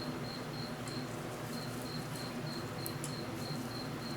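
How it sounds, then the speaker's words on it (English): Crickets chirp in a quiet setting during a car oil pan installation, a faint, regular high-pitched trill repeating in short evenly spaced pulses over low background hum, with no talking. "Make sure you got your crickets going."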